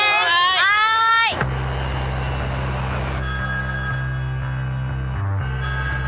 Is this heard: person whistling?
no